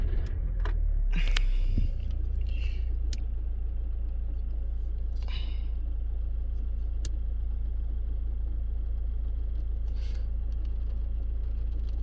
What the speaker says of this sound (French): Et maintenant, je démarre.